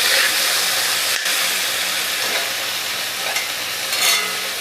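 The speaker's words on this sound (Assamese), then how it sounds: "অকণমান পানী আছিলে বুটখিনিত সেইকাৰণে এনেকুৱা শব্দ উঠিছে" Chickpeas frying in a pan with a little leftover water, making a loud, steady sizzle and hiss with occasional stirring scrapes for a chickpea curry.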